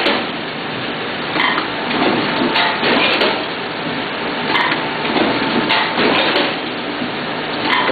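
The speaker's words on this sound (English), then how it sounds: "Here it comes into the trimmer." Bourg BST10 booklet maker running, its trimmer cutting booklets: a steady dense mechanical clatter with repeated sharp knocks and impacts throughout, no speech.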